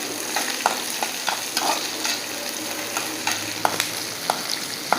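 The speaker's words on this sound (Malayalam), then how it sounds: "ചെറിയ ഉള്ളി ഞാൻ ഇട്ട് കൊടുക്കുകയാണ്." Small onions stirred and frying in a pan, a steady close sizzle with repeated scraping stirs of a spoon across the pan, no talking.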